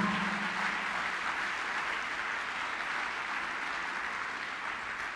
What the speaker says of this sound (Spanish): Alguien tiene que dar un fuerte aplauso al Señor.